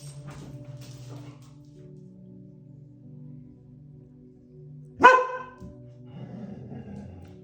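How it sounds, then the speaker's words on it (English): A single loud bark from a roommate's dog bursts out partway through, standing well above a low steady background hum. "I could again hear the dog bark"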